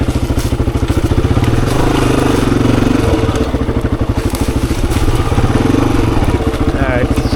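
A 26-year-old Honda XR400 dirt bike engine thumps loudly and steadily on a hard enduro singletrack loop, a close, continuous pulsing exhaust with slight rises in revs.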